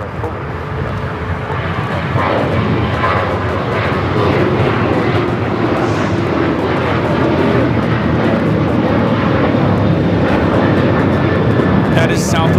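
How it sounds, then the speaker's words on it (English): A Southwest Airlines Boeing 737-800 jet roars on takeoff from LAX, a loud broad steady engine rumble building and holding throughout, with a voice talking faintly over it. "That is Southwest Airlines 799 taking off to New Orleans on the 737-800."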